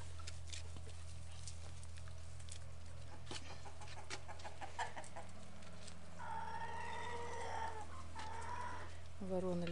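Turkeys and hens cluck and chatter in a busy farmyard over a steady low hum, with a louder bird call rising near the end.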